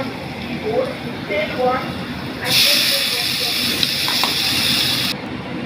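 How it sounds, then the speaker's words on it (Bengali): Tomato dropped into a pan of frying onion and garlic, setting off a sudden loud, bright sizzle that holds steady for a few seconds before cutting off, following softer frying. "এবার এর ভেতরে দিয়ে দেবো টমেটোটা"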